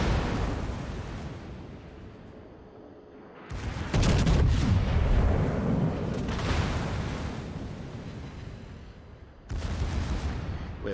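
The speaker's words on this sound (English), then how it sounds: "My secondaries are about to fire." Battleship secondary guns keep firing in the World of Warships game as a dense, rolling barrage of booms, loud and continuous with heavier surges and sharp cutoffs.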